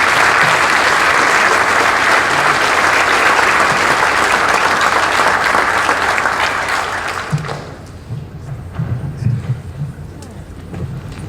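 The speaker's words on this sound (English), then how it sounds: "Please give General Stuart a big round of applause" A conference audience gives loud, full applause for Australian Army chief General Simon Stuart after his keynote, the clapping dense for several seconds, then dropping away as a voice begins speaking.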